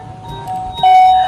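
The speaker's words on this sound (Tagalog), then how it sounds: "May nag-doorbell sa gate!" A doorbell at a gate gives a single electronic chime that starts partway through and holds as a steady, clear tone over faint background noise.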